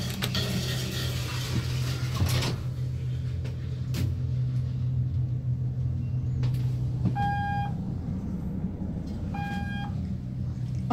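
A custom Dover Impulse traction elevator on a ride. A low, steady motor hum runs under faint mechanical clicks and knocks, and two short electronic chime tones sound near the end.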